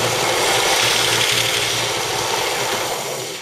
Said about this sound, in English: here's a little action sander.